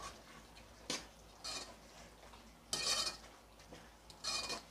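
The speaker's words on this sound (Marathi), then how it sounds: "पुन्हा आपण असं परतून घेऊया।" A vegetable curry with coriander is tossed and stirred in a pan, giving a few separate soft scrapes and clinks of a utensil against metal at irregular moments, faint and close, with no talk.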